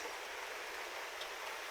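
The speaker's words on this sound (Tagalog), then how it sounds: "Kaya medyo umuulan-ulan." Light rain falls as a steady, soft hiss of fine drops, continuous and even, with no voices.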